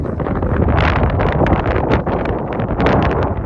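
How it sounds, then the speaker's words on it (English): Strong mountain wind in Colorado buffets the microphone in loud, continuous gusts, a heavy rumbling roar with fluttering bursts and no voices. "Yeah, it is very windy."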